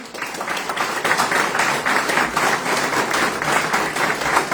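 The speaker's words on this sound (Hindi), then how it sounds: "उनके लिए जोरदार तालियां" Sustained applause from a seated audience at a company recognition ceremony in India, dense clapping with a rhythmic pulse rising and holding steady throughout.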